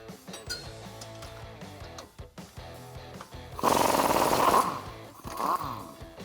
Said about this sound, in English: we can remove our lower shock bolt using an 18mm socket and wrench